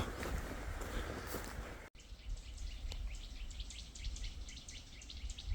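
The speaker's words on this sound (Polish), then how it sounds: "Słuchajcie, jak ptaki śpiewają." Birds chirp and sing in quick, repeated calls in a forest against a soft, steady outdoor hiss, with a brief rustle at the start.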